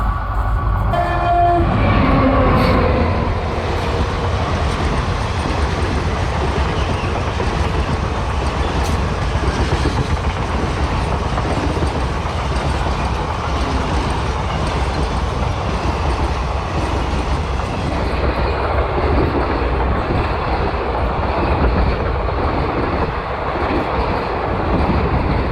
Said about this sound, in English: This train is Bangalore Jodhpur Express. Locomotive is WDP 4B.